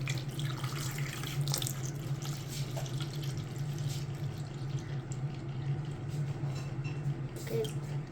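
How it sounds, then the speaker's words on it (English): Milk pours steadily from a carton into a container while making a strawberry shake, a continuous liquid splashing and gurgling stream with a low hum underneath, close and even throughout. "and then we open the cap, and then we just pour a little bit of milk."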